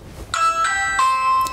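A video doorbell sounds a bright electronic chime, three clear ringing tones in quick succession, loud and close with nothing else heard.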